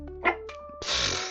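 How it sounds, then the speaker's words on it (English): A dog's short bark or yip indoors, then a louder broadband burst like a sneeze or snort right after, close to the listener. "Is it very loud when she barks like that"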